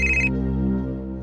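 A phone ringtone plays as a sustained electronic melodic tone with rich harmonics, clear and fairly close, alone, with no talking.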